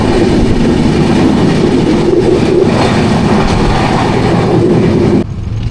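A Mumbai local train runs along the tracks with a loud, constant rumble and rhythmic clatter of wheels heard from inside a carriage, ending abruptly in a quieter hum; no one speaks.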